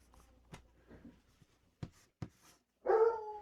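A dog barks once sharply near the end, following quiet scattered taps and small sounds in a room during a board game session; the bark is moderately loud against a hushed background.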